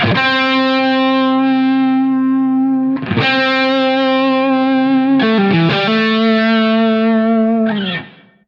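Sustained electric guitar notes with a distorted tone waver in pitch with vibrato, a few held notes changing about every few seconds before fading out.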